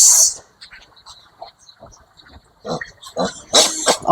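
Piglets being injected with vitamins on a pig farm, giving loud, shrill squeals in bursts at the start and again near the end, with quieter grunting and shuffling in between.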